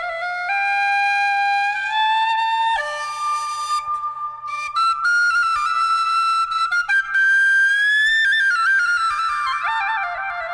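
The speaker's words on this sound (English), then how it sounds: "There's the penny whistle" A penny whistle plays a bright, sustained melody with sliding notes, wrapped in a long, echoing reverb tail; loud and steady, with no voices.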